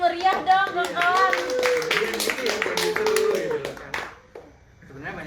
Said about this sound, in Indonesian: Tepuk tangan yang meriah dong kawan.